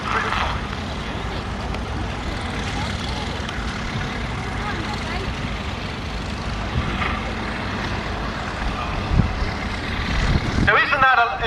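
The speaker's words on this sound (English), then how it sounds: "So that's a British tractor." A British military tractor, probably agricultural and pressed into service for towing bombs to aircraft, runs with a steady low engine rumble at a wartime vehicle show, with people talking over it.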